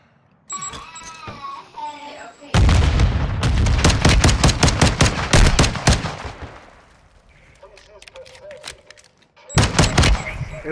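Gunfire in the Call of Duty Gulag, loud rapid bursts of automatic shots fired close, then a quieter lull and another sharp burst at the end, with a voice speaking early on.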